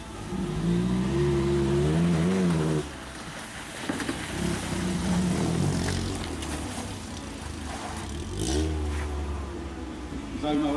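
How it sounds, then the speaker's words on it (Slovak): A rally car fitted with a motorcycle engine racing at the 2018 Dobšiná winter rally, its engine loudly revving and climbing through gear changes as it passes near, easing off and then building again. "je to motorka"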